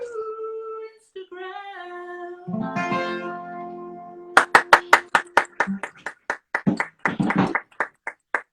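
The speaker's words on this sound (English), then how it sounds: "I'm afraid I'm the only one you can hear clapping." After a sung phrase fades, one person claps alone, about a dozen sharp, close, evenly spaced claps that loosen into a slightly irregular rhythm, with no other hands joining in.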